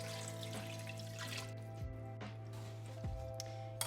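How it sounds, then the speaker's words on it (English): A cup of water poured into a cooking pot of Kashmiri chicken rogan josh, heard as soft splashing and dripping over a steady low hum, with no talking. "I'm going to add a cup of water."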